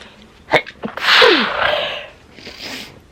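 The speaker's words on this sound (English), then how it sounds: "oh, there's another thing as well, sneezing" A single loud, close sneeze after a few sharp breaths, followed by a quieter exhale.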